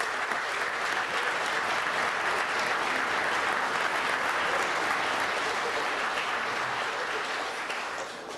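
An audience at a city council meeting applauds young people in a dense, sustained burst of clapping that fills the room, staying loud throughout and tapering slightly at the end.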